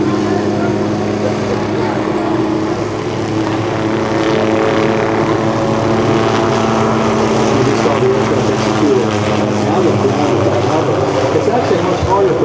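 A Hughes 500 helicopter's engine and rotor drone steadily and loudly as it lifts off and climbs backwards, the pitch holding nearly constant while it climbs.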